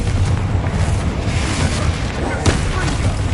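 The Confringo fire spell blasting in Hogwarts Legacy, a deep rumbling explosion with a sharp burst partway through, heavy low boom sustained across the moment.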